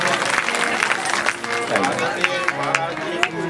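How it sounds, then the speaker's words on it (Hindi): An audience at a Bhagwat Katha gathering claps for a visiting Reliance general manager, a burst of scattered hand clapping mixed with crowd chatter and a voice talking over it. "सर के लिए एक बार ताली बजाइए सभी लोग"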